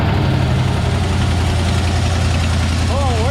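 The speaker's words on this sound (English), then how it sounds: "She is idling. No exhaust on this baby." A 1968 Ford F100 pickup with its original motor and no exhaust system idles loudly and up close with a steady, raw, rumbling drone. A voice talks over it near the end.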